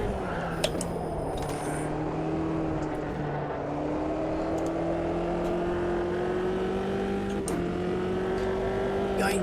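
A race car in Automobilista 2 drives a long straight, its engine a steady, moderately loud drone whose pitch climbs slowly as it accelerates, with no talk over it.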